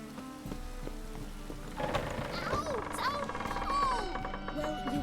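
Steady rainfall patters across a scene in The Witcher 3: Wild Hunt, a soft continuous wash with a faint rumble, while characters speak over it and tonal music or effects swell partway through.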